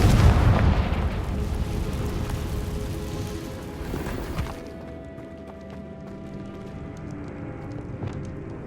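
A Confringo fire spell detonating in a video game, a loud deep booming blast with rumbling debris that fades into a quieter ringing tail with faint tonal hum.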